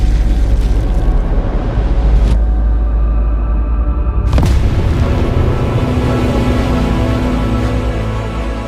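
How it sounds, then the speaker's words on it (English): A huge, deep booming explosion standing in for a supernova, a sustained loud rumble with two sharp bursts breaking through and a rolling low roar that carries on to the end. "And then rebounds in a colossal explosion called a supernova."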